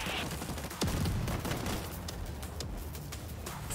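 A mortar launches and fires in the World War Z: Aftermath video game amid dense, continuous rattling gunfire and booming bursts, loud and layered throughout, with no clear talk.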